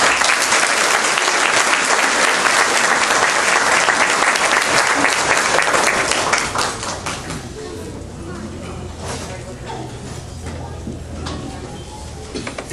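Audience applause welcoming Senator Edward Riley at a county dinner in Maryland: a dense, steady crowd clapping that fills the room, then thins after about six seconds into lighter scattered claps over a low room hum.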